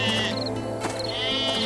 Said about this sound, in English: there were some shepherds keeping watch over their flocks of sheep